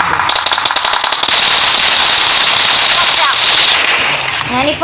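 Rapid automatic gunfire in the BGMI battle royale game, loud dense bursts of shots in quick succession, firing almost continuously before a short pause near the end.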